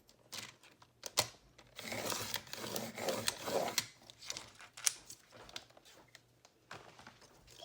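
Scissors cutting small paper pockets for a junk journal, close and quiet, with bursts of rasping snips and paper rustle and a few sharp clicks between pauses.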